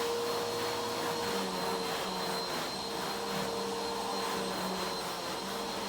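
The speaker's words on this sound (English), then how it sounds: "my little shop vac has a edging tool" A small shop vac runs across carpet during mold cleanup, a loud, steady whirring drone with a constant pitch that holds unbroken for the whole stretch, no voices over it.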